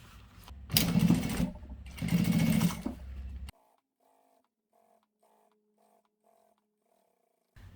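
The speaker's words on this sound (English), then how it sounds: "Then I will do a really close top stitch, about 1/8 inch from the edge." A sewing machine runs two bursts of close top stitching through a vinyl cosmetic bag, loud and steady for about three seconds. It then stops, leaving faint ticks and near silence.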